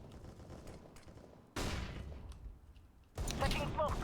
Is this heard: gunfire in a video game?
yes